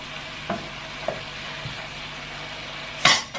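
Eggs fry in a pan with ampalaya and pork, giving a soft, steady sizzle throughout, punctuated by a few light utensil taps and one louder scrape of stirring near the end.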